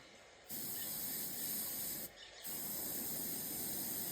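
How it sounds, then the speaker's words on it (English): An airbrush sprays paint onto a bluegill-pattern fishing lure with a steady, close hiss in two bursts, broken by a short pause between them. "Keeping light pressure on the airbrush."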